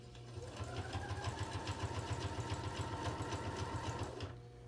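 A sewing machine runs steadily for about four seconds, top-stitching blue jeans fabric along a bluish gray line, a fast even mechanical rattle close up before stopping, with no talk.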